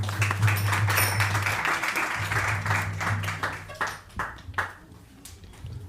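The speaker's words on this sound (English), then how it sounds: "clap again" Audience clapping at a Sunday devotional program, a sustained wash of hand claps that thins into scattered individual claps toward the end, with a low sustained tone running underneath.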